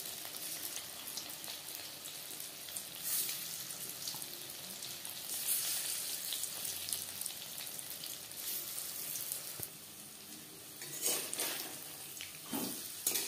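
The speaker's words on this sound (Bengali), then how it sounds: "পাকোড়াগুলো ভাজবো" Cauliflower pakoras fry in hot oil over a medium flame, giving a steady, close bubbling sizzle that runs throughout with slight swells and no talking.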